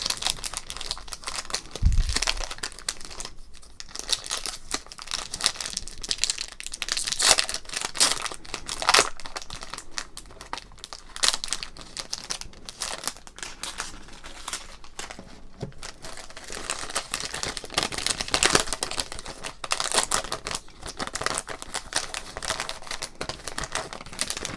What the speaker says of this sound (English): let's open up this 2022 Series 2 Topps pack